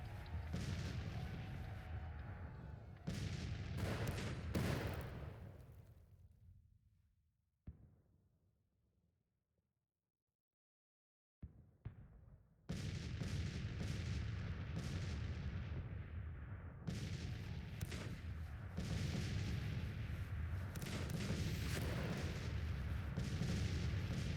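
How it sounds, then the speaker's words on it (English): Civil War cannon artillery fire in the Grand Tactician strategy game: dense, rolling booms and crackling volleys that pile into a continuous roar, fade into a brief lull of near silence, then surge back just as heavy, with no talking. "now the cannons are starting to do their thing"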